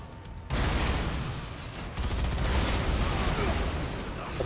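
Dense, sustained gunfire in the video game Dead Rising 3, a continuous roar of rapid shots that starts abruptly after a short quiet opening and carries on loud to the end.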